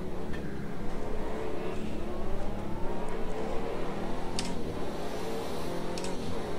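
A Pagani Zonda sports car engine accelerating in a racing game, a steady, loud, rising drone with the pitch climbing as it gathers speed and no voices over it.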